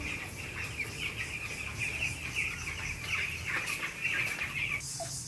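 Farm chickens clucking continuously at close range, a dense overlapping chorus of hens with steady rhythmic clucks and no talk.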